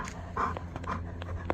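A dog panting inside an MGB sports car, quick soft breathy puffs in short bursts, close and fairly quiet.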